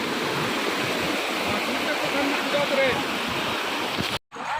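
Floodwater from the swollen Amner river rushes loudly and continuously through a burst pond embankment in a village, a dense roaring wash that cuts off abruptly near the end, with a voice talking over it.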